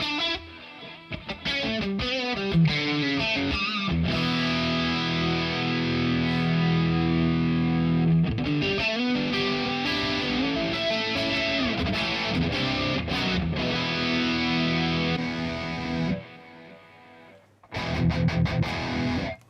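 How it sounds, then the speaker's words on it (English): An electric guitar played through a reverb delay effect on a default preset, sustained distorted chords and notes ringing out with echoing tails, broken by short pauses before a final burst. "Let's try the reverb delay."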